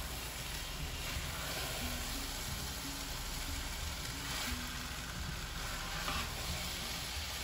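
Ingredients for Spanish rice fry in a pan and get stirred, making a dense, even sizzle with faint scraping underneath that stays steady throughout; no voices.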